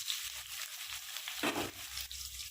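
Onions fry in a pan for chicken curry, a close, steady sizzle with a brief stirring scrape partway through, no talking.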